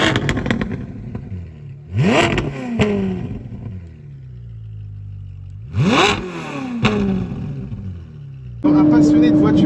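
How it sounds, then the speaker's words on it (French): A Ferrari 458 Italia naturally aspirated V8 with an IPE exhaust is blipped in two sharp rising revs that fall back to a burbling idle, with crackles after each one, and speech is heard faintly in between. "On vous fait écouter le start-up? Ouais, on va démarrer, faire quelques coups de gaz là."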